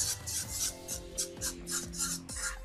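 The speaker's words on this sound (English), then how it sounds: "I'm adding in some okra. And I'm going to whisk this." Okra and onions whisked in a pot for Nigerian ewedu soup: rapid rhythmic scraping and rasping strokes, about eight back-and-forth passes, close and moderately loud with no talking.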